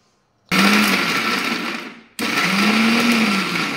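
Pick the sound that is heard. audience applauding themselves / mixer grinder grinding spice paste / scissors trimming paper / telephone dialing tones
mixer grinder grinding spice paste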